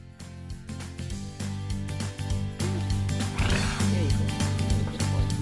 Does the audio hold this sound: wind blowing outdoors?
no